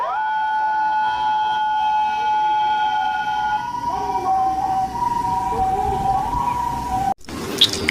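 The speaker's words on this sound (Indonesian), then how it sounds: "ini mobil ambulan." A toy ambulance's electronic siren sounds loud and close, holding a steady wailing tone before shifting to a warbling pattern. It cuts off with a brief click near the end, with no voices.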